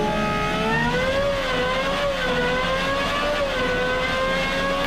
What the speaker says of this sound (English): here's a little clip of what it sounds like